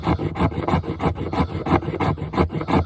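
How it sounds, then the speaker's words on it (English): Rhythmic back-and-forth scraping as the 90-degree spine of a TFK T17.4 knife rasps across material, roughly a dozen close, steady strokes with no talk. "let's use the spine of this knife to make some scrapings."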